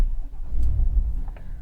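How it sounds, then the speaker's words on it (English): A 2026 Chevrolet Silverado High Country's 6.2-litre V8 idles after starting, a low, steady rumble heard close up with a few faint clicks and no talking. "we start the truck up"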